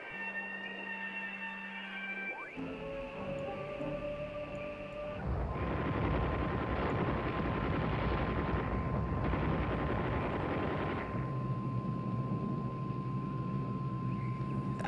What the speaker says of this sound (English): it's definitely gunfire from a plane of some sort